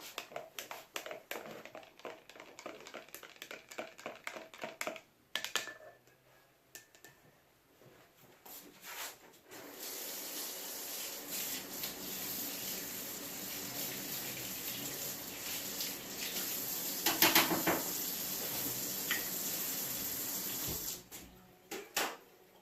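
Silk dye bath being stirred: liquid swishing and gushing, quiet and intermittent at first with clinks, then a steady louder watery churn through the rest.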